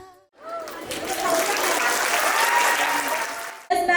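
Loud, sustained applause from a school annual concert audience after a playgroup class's song performance, dense clapping filling several seconds before cutting off abruptly.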